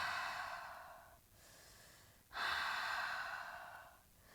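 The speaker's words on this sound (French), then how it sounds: "inspirez par le nez, ouvrez grand la bouche, faites de profondes expires" Two long, deep breaths exhaled through a wide-open mouth during a yoga session, each a steady airy rush lasting over a second, close and alone with no talking.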